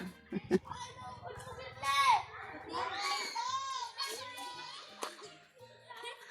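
Lively children's voices chatter and shout close by, overlapping in playful bursts with squeals and laughter throughout.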